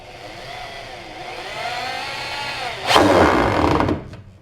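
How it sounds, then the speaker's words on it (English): A power drill drives a screw into wood while building a catapult, its motor whirring steadily and rising in pitch before a louder burst of strain near the end, then cutting off, close and loud with no talking. "use the drill to put in the screw to hold it in position"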